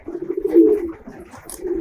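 A pigeon coos in a low, steady drawn-out note inside a loft where the birds are feeding, close and clear with no talking.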